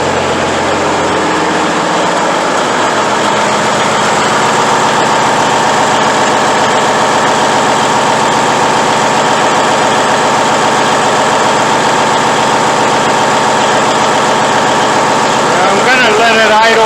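A heavy Cummins N14 Celect Plus diesel truck engine idles steadily up close after injector replacement, a continuous low rumble that holds even throughout.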